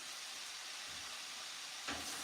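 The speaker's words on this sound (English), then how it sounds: "I'm just stir frying these veggies up" Veggies stir frying in a pan for a batch of vegan meals, giving a steady, even hiss of sizzling that swells slightly louder near the end, with no talking.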